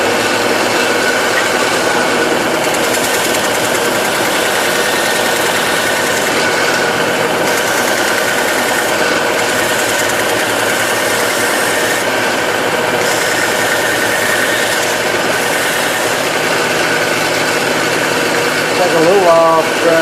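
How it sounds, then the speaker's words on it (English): A bench grinder runs loud and steady for the whole stretch, grinding down a small inlay piece with a continuous high whine and roar, close to the listener and without pauses. "I'm just going to go to my bench grinder. And I'm going to grind this down to fit this."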